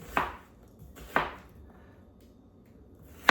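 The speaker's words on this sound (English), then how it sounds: "you're gonna take the other half and do the same bridge method along the grain, and you're gonna make slices in it" Knife slicing meatloaf ingredients on a cutting board with a bridge grip, cutting along the grain: three sharp, separate cuts spaced about a second apart, close and clear against a quiet kitchen with no talk.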